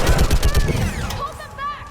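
Rapid bursts of gunfire from a mounted gun in Mass Effect 3, loud and close in a quick rhythmic volley that fades into whooshing game effects, with voices mixed in.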